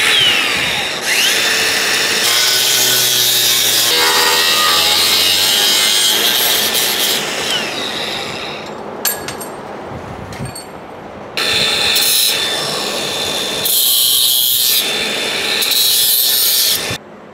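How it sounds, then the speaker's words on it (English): A power saw cuts off a steel flange on a table frame, giving loud sustained grinding and rasping in several long passes broken by short pauses, clanks and metal rattles. "I'm just going to do the smart thing and cut the flange"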